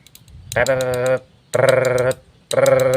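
A voice imitates a green snake's tail-flicking warning: three buzzy, rapidly pulsing bursts, each under a second, with short pauses between.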